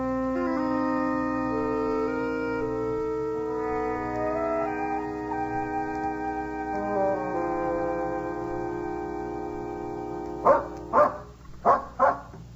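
In a 1950 radio drama, a dog gives a few sharp barks near the end, following a long stretch of sustained orchestral music.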